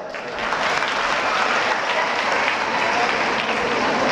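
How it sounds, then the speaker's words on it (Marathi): Loud, dense clapping from a large student audience at a career guidance motivational talk, swelling in after a moment and holding steady without letup. "त्याच्यासाठी जोरदार टाळ्या वाजवा."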